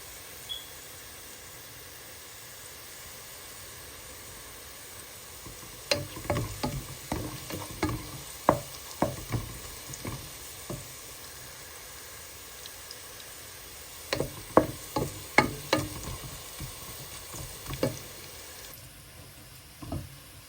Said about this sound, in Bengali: পেঁয়াজটা ভাজা হয়ে গেছে, এখন মাংসগুলো দিয়ে দেবো।